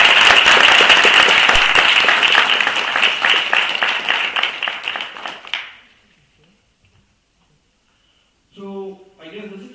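Loud audience applause at a student association event fills the first half, dense clapping that thins and fades out by about six seconds, followed by silence and then a voice speaking near the end.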